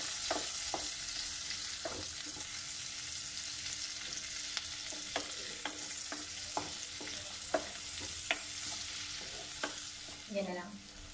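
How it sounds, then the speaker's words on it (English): Onion frying in a pan for butter chicken, a steady close sizzle with irregular clinks and scrapes of a utensil stirring throughout, ending in a brief louder scrape. "We will not completely fry the onion, like, ano, hintayin na mag-golden brown siya."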